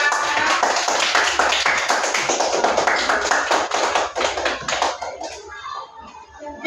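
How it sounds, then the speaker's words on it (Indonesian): A first-grade class applauding a classmate, Aisyah: dense, quick hand claps from many children close by, steady for about five seconds before thinning into scattered claps and fading out. "tepuk tangan untuk Aisyah"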